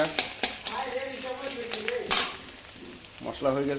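Spice masala fries in oil in a pan for a Bengali home-cooked dish, soft sizzling under repeated scraping stirs and clinks of a utensil against the pan, with faint voices nearby.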